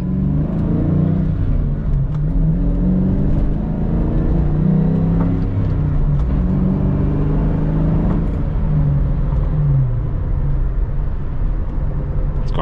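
A 1998 SVT Cobra engine drones loud and close while driving, its revs climbing and easing in repeated swells over a constant low rumble.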